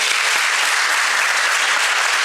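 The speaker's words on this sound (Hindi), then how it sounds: "तो एक बार जोरदार तालियां आप सभी के लिए।" Students at a motivational talk burst into loud, dense, continuous clapping that fills the room from start to finish.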